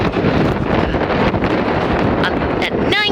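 Strong mountain wind at 9,000 feet elevation buffets the microphone in a constant loud roar, with brief squeaky tones near the end.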